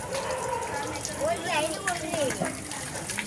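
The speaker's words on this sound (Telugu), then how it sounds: "పోసేయండి, వాటర్ పోసేయండి." Water splashes and gushes as it is poured over people at a haldi ceremony, a busy wash of noise mixed with excited voices talking and calling out nearby.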